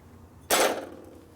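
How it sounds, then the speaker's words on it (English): A single sharp, loud hammer strike on a rivet, close by, ringing briefly before fading into quiet background noise, while riveting a 1970s Harley-Davidson Sportster kickstarter ratchet plate. "Now if you didn't want to do all that hammering,"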